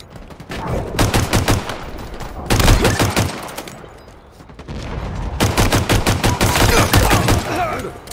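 Halo Infinite online multiplayer gunfire: loud, rapid automatic bursts in three long volleys separated by short pauses, close and dominant with no talk.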